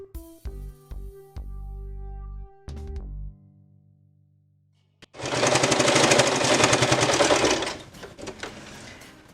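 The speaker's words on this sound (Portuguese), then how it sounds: "Então agora a gente vai passar uma costura nele" A sewing machine stitches a fabric heart-shaped oven mitt in one steady, rapid mechanical burst lasting a few seconds, preceded by tonal musical notes and then a short pause.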